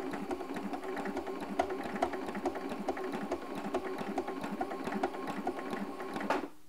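A sewing machine runs steadily, stitching along a seam ditch with invisible thread, its rapid even clatter continuing close and loud before stopping abruptly near the end.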